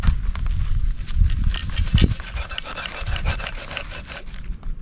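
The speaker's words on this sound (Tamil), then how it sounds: "மீனை வந்து நல்லா கோடு போட்டு நல்லா அழகாக வெட்டி" A knife scores deep lines into a whole fish for Kerala-style fish pollichathu, making a close, steady rasping scrape with a few heavier strokes.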